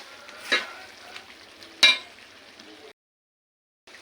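Beef roast being stirred in a frying pan, a soft low sizzle with two sharp scraping strokes of the spoon, then the sound cuts to near silence.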